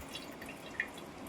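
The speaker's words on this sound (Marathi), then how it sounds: "तो आता आपण हा कपड्यामध्ये गळत ठेवूया, पाणी बांधूया।" A couple of faint, isolated drips of water fall from curd hung in a cloth strainer into a container against a quiet background.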